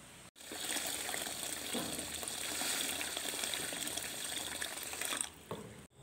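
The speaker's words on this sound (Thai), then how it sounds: "เฮาก็สิเอาลูกหม่อนเนาะจ้าไปล้างน้ําจักสองน้ํากันเด้อค่ะ" Mulberries being rinsed in water, a continuous close splashing and trickling wash that runs steadily for several seconds before stopping abruptly, with no talk.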